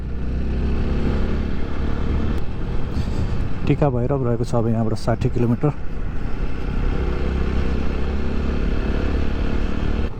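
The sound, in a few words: motorcycle riding on Kanti Lokpath road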